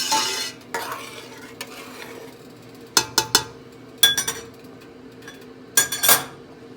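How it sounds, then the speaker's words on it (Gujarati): Spinach and moong dal stirred in a pan, with a soft sizzle under repeated scraping strokes and a few sharp clusters of utensil clinks against the metal, close and fairly loud, no voices. "હવે એકવાર સરસ હલાઈને મિક્સ કરીશું"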